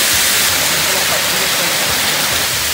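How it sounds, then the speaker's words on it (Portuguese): A waterfall in São Thomé das Letras, Brazil, roars close and loud with a dense, steady rush of falling water that fills the whole clip. "encontramos essa cachoeira aqui, ó. A primeira queda que a gente encontra, né?"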